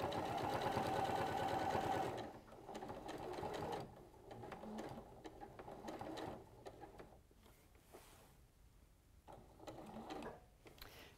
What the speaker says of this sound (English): So sewing up the side, and again I'm going to stop just quarter of an inch short of the corner.